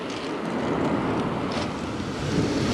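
Rough, churning sea breaks steadily on a stony pebble beach at Ventimiglia, Italy, a loud continuous wash of surf mixed with wind buffeting the microphone.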